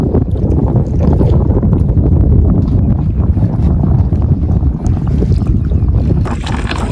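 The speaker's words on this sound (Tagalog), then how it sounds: "Malakas ang hangin guys." Strong wind buffets the microphone in a constant loud roar, with gusty low rumbling throughout and no voices heard.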